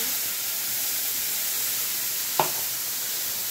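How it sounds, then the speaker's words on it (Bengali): Black nigella seeds dropped into hot oil for tempering, giving a steady broadband sizzle and hiss with one brief sharp crackle midway, close and alone. "গরম তেলের মধ্যে কালো জিরে দিয়ে দেবো ফোড়ন"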